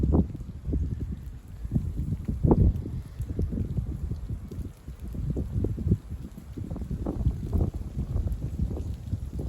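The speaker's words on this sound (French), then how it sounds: "c'est juste un petit peu de vent avec la perturbation" Moderate winter wind blows outdoors in gusts, a low rushing and buffeting against the microphone that swells and eases over several seconds, with no speech.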